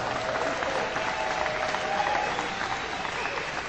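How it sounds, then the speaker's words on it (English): An audience gives a round of applause at a lifetime achievement award show, a dense, steady patter of clapping that holds at an even level throughout. "We'd have a little round of applause for her."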